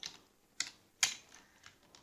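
Light typing on a computer keyboard, a handful of soft, close key clicks spaced irregularly over two seconds, with no talking.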